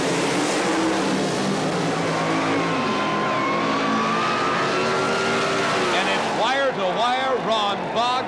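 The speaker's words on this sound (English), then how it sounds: "that's this 1923 Model T Roadster" A 1923 Model T Roadster drag racing at a sportsman drag race, its engine roaring loudly and steadily as it accelerates down the strip, under a commentator's talk.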